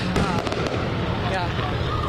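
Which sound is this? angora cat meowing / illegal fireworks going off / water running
illegal fireworks going off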